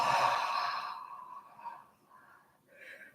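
A person yawns: a long, voiced, breathy exhalation that starts loudest, slides downward and fades, followed by softer breathy sounds and a faint rising breath at the end.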